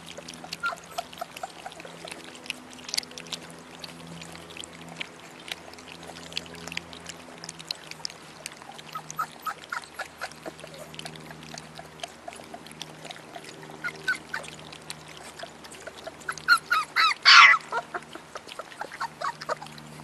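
Several dogs lap water from a bowl or trough, a steady run of soft wet slurping and dribbling sounds near and clear, ending in a brief louder splash; no one speaks.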